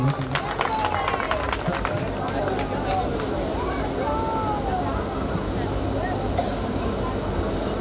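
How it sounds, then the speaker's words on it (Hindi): A live show audience clapping, a dense crowd patter with sharper individual claps early on, mixed with crowd babble and a voice. "अच्छा लोग बहुत एक जोड़ा ताली चाहता है आप सब लोगों से।"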